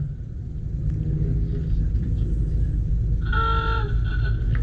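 A vintage Rolls-Royce car pulling away at an outdoor gathering of many Rolls-Royces, a steady low engine rumble throughout, joined near the end by a brief tonal horn-like sound.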